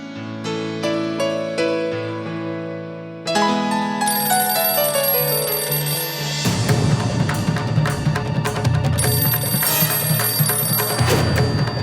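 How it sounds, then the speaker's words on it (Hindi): A telephone rings loudly with repeated electronic bell tones over a musical backdrop, continuing for several seconds without any voices. "रेवा, फोन उठाओ।"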